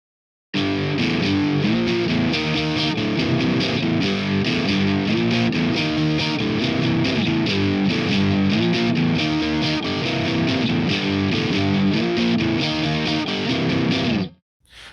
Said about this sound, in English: the distortion kicks on when the chorus comes in and we got a huge tone